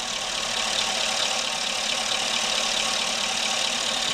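A car engine converted to run on natural gas idles steadily at close range, a continuous, even mechanical hum with a faint knocking texture and no change in pitch or loudness throughout.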